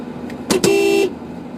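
A car horn honks, two short toots followed by a sustained blast of about half a second, close and loud over a quiet engine hum.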